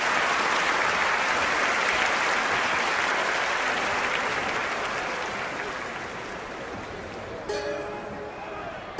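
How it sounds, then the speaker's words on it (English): A stadium crowd applauds steadily and loudly at a women's 10-metre platform diving event in a London 2012 Olympic video game. The clapping fades slightly near the end and is cut off abruptly. "Plenty of crowd support here."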